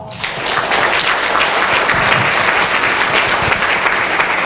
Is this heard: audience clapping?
yes